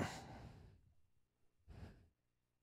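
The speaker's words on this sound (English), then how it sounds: "it's really nice breathing into the mic there" Two close breaths into a microphone, a long airy exhale followed by a pause and a shorter nasal breath, intimate and fairly quiet.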